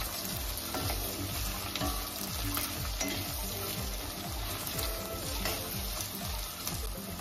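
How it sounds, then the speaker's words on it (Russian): Carrot, onion, celery and potato fry together in a pan for vegetable soup, with a steady crackling sizzle broken by scraping stirs under a low, tonal background. "Немного обжарилась морковь с луком и сельдереем. Вводим сюда картофель."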